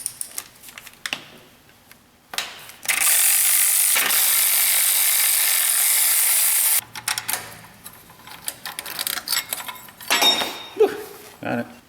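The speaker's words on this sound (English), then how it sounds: "I'm going to just remove the 2 retaining bolts off the carrier." Retaining bolts are removed from the axle carrier of a 2011 Ford Fiesta with a DPS6 Powershift transmission, a few seconds of loud, hissing tool noise surrounded by metallic clinks and clatter of tools close by.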